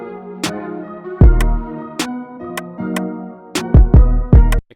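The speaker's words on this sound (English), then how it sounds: "So here we've already got a little beat going," Short drum beat programmed in Logic Pro X, with booming kicks, sharp snare hits and tonal layers in an uneven groove, loud and clean with no talking.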